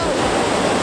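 Water rushes and churns into a canal lock, a loud, full roar of pouring water heard close up in a brief burst.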